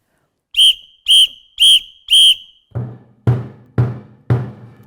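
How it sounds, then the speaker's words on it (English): A samba apito whistle sounds four sharp, evenly spaced blasts, each answered by a percussive hit from the band, alternating in a call-and-response rhythm at close range. "This is a whistle, or called an apito."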